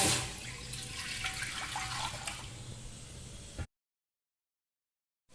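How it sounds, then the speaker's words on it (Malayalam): Water is poured into a pot for boiling noodles, making a continuous close splashing gush for about three and a half seconds before it cuts off into silence. "ഇതിലേക്ക് വെള്ളം ഒഴിക്കുക"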